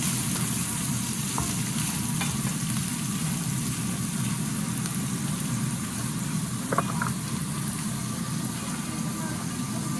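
Garlic, ginger and onion frying in a pan for chicken curry, giving a steady dense sizzle that runs the whole time, with a couple of faint utensil clicks.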